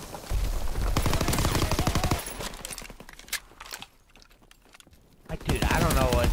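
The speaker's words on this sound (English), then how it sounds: "there's a billion guys shooting in" Many enemies firing guns in a war shooter game, rapid overlapping automatic fire that is loud at first, drops to scattered shots in a lull, then surges back.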